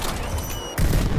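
Rapid gunfire in the video game Destiny 2 sounds as a dense, continuous burst of shots with a heavier boom near the end.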